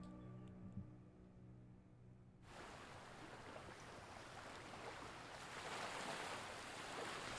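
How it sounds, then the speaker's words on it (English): Surf crashing on a mysterious beach in a visual-novel game, a broad steady roar of waves that swells louder after a brief musical opening, heard alone. "I heard the sound of waves crashing against the shore."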